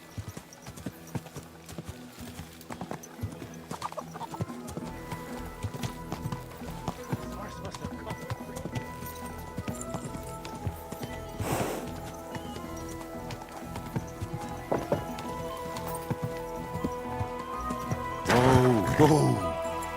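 Horse hooves clip-clop steadily on the ground in Kingdom Come: Deliverance II, close and rhythmic, with a neigh and creaking tack near the end and some talk over it.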